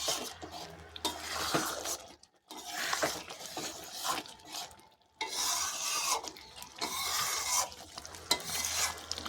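Stirring banana flower curry with moong dal and prawns in a pan: steady scraping and sizzling in bursts, close and fairly loud, with two brief quiet gaps between strokes.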